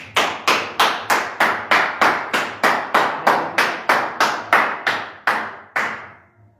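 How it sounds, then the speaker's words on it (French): Church congregation clapping together in rhythmic bursts, about fifteen sharp rounds of applause in steady succession, loud and close, with no talking. "Nous acclamons encore pour le Seigneur"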